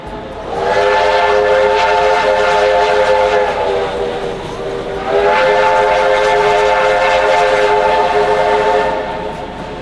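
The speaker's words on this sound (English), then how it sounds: "Where we had push-pull steam locomotives K183 and A2986" Heritage steam locomotives K183 and A2986, running push-pull, sound a loud sustained chime whistle in two long blasts over a rumbling train, close by and with no talk.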